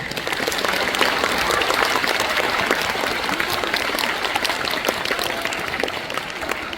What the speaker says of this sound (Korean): 그 뜨거운 열정에 그보다 더 뜨거운 박수 한번 우리 보내드립시다